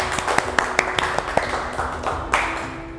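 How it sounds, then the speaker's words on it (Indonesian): Light, scattered clapping from a small audience on the set of a cooking competition show, sharp individual claps at uneven intervals with a steady background hum. "Kita kasih tepuk tangan dulu dong."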